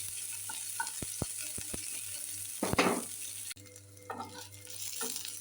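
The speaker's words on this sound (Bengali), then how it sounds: "তেলটা গরম হয়ে গেছে, রসুন কুচি আদা কুচি দিলাম, পেঁয়াজ দিলাম" Chopped garlic, ginger and onion frying in hot oil in a pan, a steady close sizzle with a few sharp clinks of a utensil and a burst of louder stirring and spattering midway.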